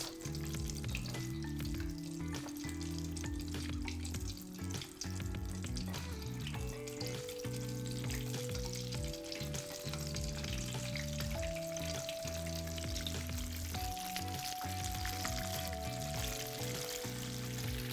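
Chicken pieces fry in a pan with a continuous, dense crackling sizzle, steady and close throughout, with no voices.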